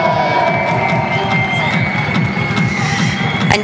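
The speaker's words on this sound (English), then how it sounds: "you can hear the cheer from the crowd as they welcome on Alvarez and Cristina Gonzalez" A crowd at a padel tournament's center court cheers and shouts to welcome the players, with whistles and voices carrying over a dense, continuous roar.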